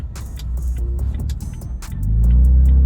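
Toyota Tacoma, third generation, with an MBRP XP turn-down exhaust accelerating onto a main road. The deep exhaust rumble builds into a loud, sustained drone near the end, with clicks and rattles over it.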